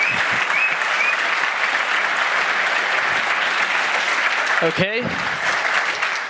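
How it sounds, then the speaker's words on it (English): A conference audience at a security talk gives a big round of applause that holds steady throughout, with one brief spoken word near the end. "please give a big warm round of applause"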